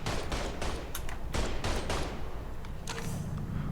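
Rapid bursts of automatic gunfire and shots from a Mafia 3 gunfight crackle loudly and densely, overlapping in close succession for several seconds with no talk.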